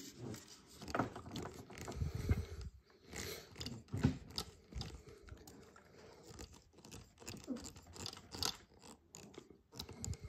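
Small plastic gear mechanism in the door of a Fast & Furious Nissan Skyline GTR scale model being turned by hand, giving faint close clicking and ratcheting with soft handling noise.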